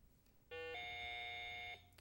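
A single electronic quiz buzzer tone sounds for about a second during a high school quiz game, bright and ringing, then cuts off in an otherwise quiet room.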